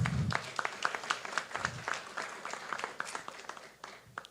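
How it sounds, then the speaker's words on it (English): An audience claps at a science pitch event in Ecuador, a brisk round of applause with distinct individual hand claps, moderately faint and somewhat distant, with a brief low voice at the start. "Big applause again, please"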